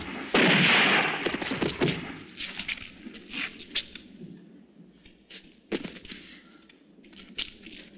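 Gunshots ring out in a classic western film scene, several sharp reports spread irregularly over a few seconds amid background action, with one loud burst near the start.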